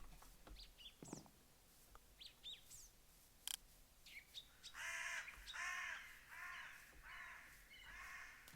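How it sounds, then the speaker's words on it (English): Birds call in the video game Terrafirmacraft, with scattered chirps and tweets giving way to repeated harsh crow-like caws, moderately loud and without talk. "You hear birds. But I don't see any."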